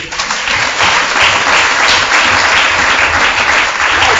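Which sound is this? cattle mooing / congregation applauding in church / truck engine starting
congregation applauding in church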